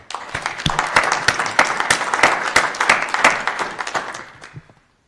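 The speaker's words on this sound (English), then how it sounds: "if we could just give them a round of applause" A round of applause at a board meeting from a modest group, distinct individual claps building and then tapering off to silence near the end.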